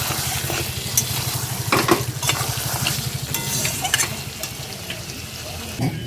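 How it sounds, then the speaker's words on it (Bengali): Meat frying in a pan in a home kitchen, a constant dense sizzle with occasional stirring scrapes and clinks, close and steady throughout, with no talking. "এই যে অল্প করে একটুখানি মাংস এনে মাংস করা হচ্ছে"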